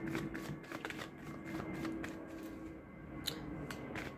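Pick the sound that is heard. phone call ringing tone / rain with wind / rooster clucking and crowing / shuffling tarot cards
shuffling tarot cards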